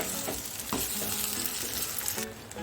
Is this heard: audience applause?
no